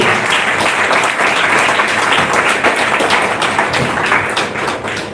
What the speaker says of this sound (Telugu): Come on, let's give the Lord a big hand. గట్టిగా చప్పట్లు కొట్టాలండి.